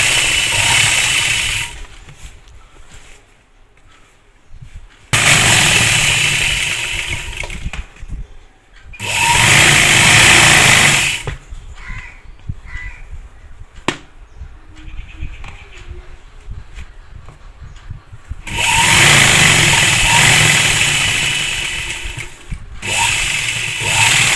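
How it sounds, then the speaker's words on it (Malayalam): A sewing machine stitching straight pant pieces, running in loud bursts of steady mechanical whirring separated by quieter pauses, with a voice talking in the gaps. "അങ്ങനെ വരത്തക്ക വിധം നമ്മൾ സ്റ്റിച്ച് ചെയ്ത് കൊടുക്കുന്നുണ്ട്."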